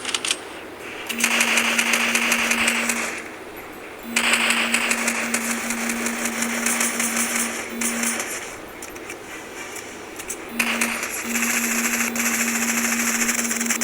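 SMG gunfire in Fortnite comes in rapid buzzing bursts, three sustained strings of automatic fire separated by short pauses, loud and close, with game sounds underneath.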